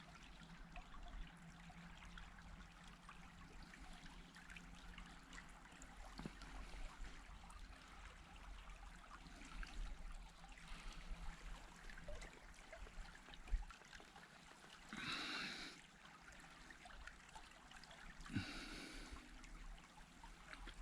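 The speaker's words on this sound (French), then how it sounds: "on entend les petites rigoles, l'eau qui coule" Small streams of running water trickling outdoors, a soft continuous babble heard at a distance, with a couple of brief louder rustles partway through.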